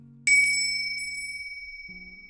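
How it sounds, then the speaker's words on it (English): A single bell rung from inside a mother-in-law's room, a bright bicycle-bell-style ding with long ringing overtones that slowly fade, alone with no voices. "I heard the bell ringing from my mother-in-law's room"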